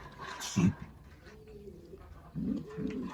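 Domestic pigeons cooing in a home loft where a breeding pair is about to lay eggs: one short soft coo early on, then a quiet pause and a longer run of low rolling coos, close by with no talk.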